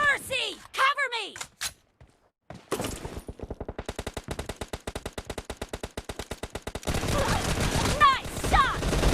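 Shooter video game gunfire: a long, rapid automatic burst of evenly spaced, loud shots, followed by denser overlapping fire, with game voices heard at the start.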